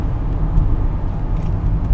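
A truck riding close behind a car on the road, heard from inside the cabin as a steady low engine and road rumble, loud and continuous with no break.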